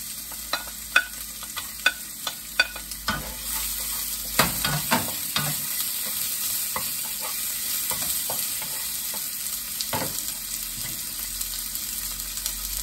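Garlic and onion fry in a pan for a Filipino beefsteak dish, a continuous sizzle with scattered clicks and clinks of stirring that cluster near the middle, and no voices.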